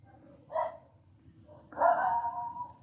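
Dogs barking at a distance outdoors, two separate bursts: a short yelp early on, then a longer, louder bark-howl that trails off, over a steady low rumble.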